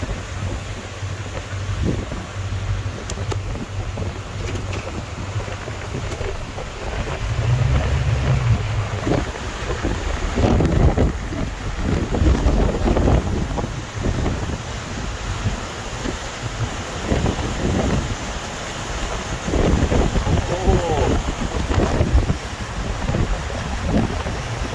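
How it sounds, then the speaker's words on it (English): A strong summer windstorm in Kelowna roars in a continuous rushing blast that buffets the microphone, swelling into heavier gusts and easing again throughout. "what a storm for Kelowna"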